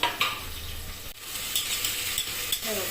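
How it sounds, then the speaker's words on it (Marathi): Finely chopped onion, tomato, mint and coriander sautéing in a pan, giving a steady close sizzle with a few soft spoon scrapes and stirs, alone with no voices. "टोमॅटो पुदिना आणि कोथिंबीर छान असं बारीक कापून घेतलेलं आहे पुदिना कोथिंबीर ते छान परतवून घ्यायचं आपल्याला"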